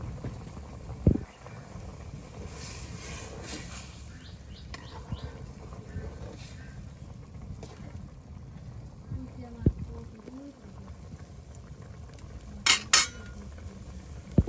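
Small river fish curry in a pot in a rural village kitchen being stirred, soft scraping and clanking of a utensil against the pot under steady talk, with a lid clattering near the end.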